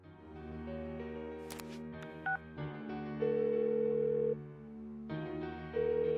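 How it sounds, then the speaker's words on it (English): A phone call dialed in the Persona 4 Golden video game, a few short keypad beeps and a rising tone over a steady sustained music bed, no voices. "Give her another call."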